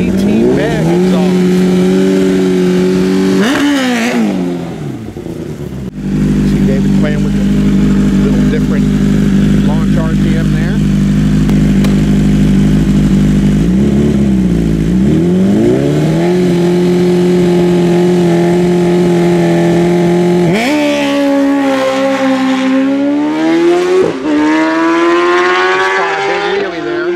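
2020 BMW S1000RR superstock racing motorcycle with aftermarket exhaust, loud and close, holding a high sustained engine tone, then shifting and revving up through gears with rising and falling pitch sweeps; talk may sit under it.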